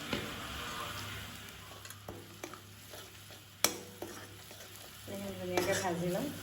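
Spices with turmeric, chilli, cumin and coriander powder sizzle and fry in a pan while a utensil stirs and scrapes, with sharp clinks of metal against the pan, close and steady.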